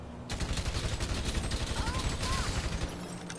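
Rapid automatic carbine rifle fire in GTA, aimed at the armored windows of a car, a fast steady stream of sharp close shots with small impact pings, lasting about three seconds.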